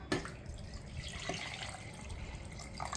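Water poured into a mixer jar while making raw mango rasam in a home kitchen, a steady splashing pour heard close and alone for about three seconds.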